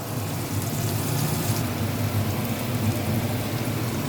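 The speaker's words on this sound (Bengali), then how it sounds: "এরপর আমি ক্যাপসিকাম, কুমড়ো আর টমেটোটা ভাজতে দিয়ে দিলাম।" Capsicum, pumpkin and tomato frying in a pan make a dense, even sizzle that sounds almost like steady rain, close and continuous with no voices.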